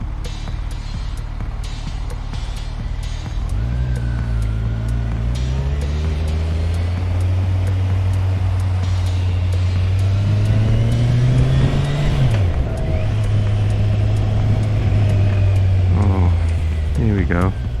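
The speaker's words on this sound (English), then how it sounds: "it's an absolute nightmare for traffic. As you can see, all of these cars." Cars in slow, congested road traffic near a Saturday market at North Weald, heard from a motorcycle, with a steady mid engine hum rising and falling as vehicles creep forward, up close and continuous.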